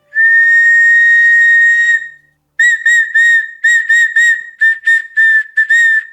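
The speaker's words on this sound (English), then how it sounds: "I imagined it to sound a little bit nicer instead of this weird whistling sound" A loud, high whistle from a blown 3D-printed shell sounds in one long steady tone, then a pause, followed by a string of short, choppy whistle bursts.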